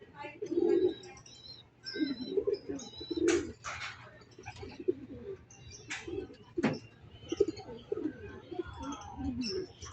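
Racing pigeons at a loft coo and flutter close by in soft bursts, along with occasional sharp clicks and brief chirps, under intermittent talk.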